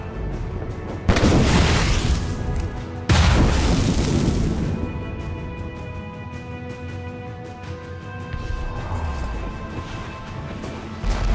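Ship cannons fire in a naval battle in Assassin's Creed Rogue, giving two loud, deep booms about two seconds apart, each followed by a long rumbling decay over steady wind and sea ambience.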